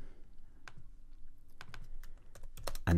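Keyboard keys tapped on a Mac while naming a new project folder for Logic Pro, a few sparse clicks at first and then a quicker run of close, crisp keystrokes over a low background hum.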